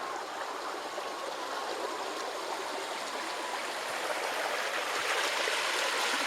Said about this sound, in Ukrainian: Кам'янистий перекат.